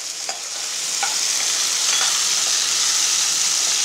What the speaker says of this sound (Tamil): இது ஃப்ரை ஆகட்டும் கொஞ்சம் நேரம்.